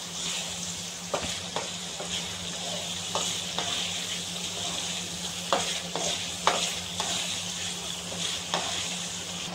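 Steady sizzling in a pan while a spoon stirs and scrapes prawn pickle, with a few sharp clicks of utensil against metal at irregular moments.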